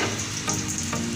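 Onion frying in a small amount of ghee for keema, a loud, close, steady sizzle with faint stirring, and no voices.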